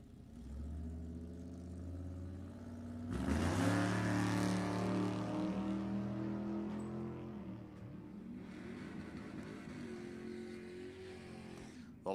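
Drag race cars launching down the strip at Sacramento Raceway, one loud car and one quieter one pulling away, a steady engine roar that swells after a few seconds, heard from a distance and then fading.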